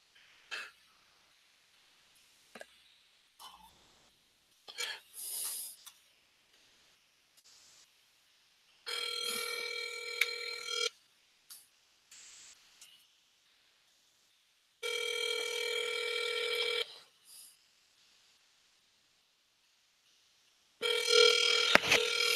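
A telephone call rings out in a series of repeated electronic tones with long silent gaps between them, then gives way to a voicemail greeting, the rings clear and moderately loud with faint scattered clicks.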